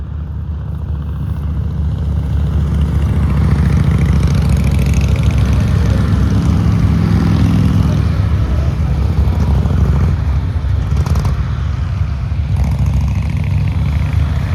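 A group of motorcycles passes on a popular road, giving a loud, continuous low engine roar that swells and holds steady for the whole stretch, with no talking.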